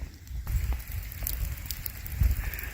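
Rain falling steadily outdoors on a sheep farm, a dense crackling patter with occasional low thuds, close and moderately loud, with no voices.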